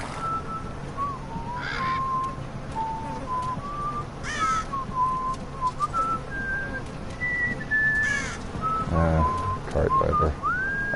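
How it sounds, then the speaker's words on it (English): A cart driver in a Game of Thrones video game on PS4 whistles a meandering melody steadily at moderate distance, with crows cawing several times in the background. "Cart driver. I'm not gonna ask him to stop whistling."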